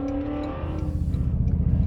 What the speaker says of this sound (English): And the exhaust note is absolutely fantastic. Really aggressive sound.